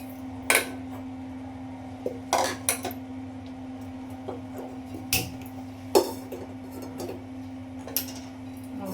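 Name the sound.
cooking pot being set down and handled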